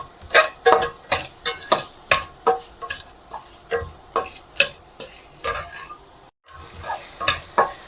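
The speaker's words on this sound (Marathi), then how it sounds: "कांदा आपण थोडा लालसरपणा येईस तोपर्यंत भाजून घ्यायचा आहे।" Finely chopped onions for a dried bombil curry being roasted in a pan, with a steady run of sharp spatula scrapes and taps over a soft sizzle, briefly cut off before resuming.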